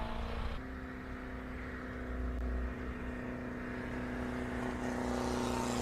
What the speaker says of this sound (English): That little 750cc is pumping itself to get up the hill.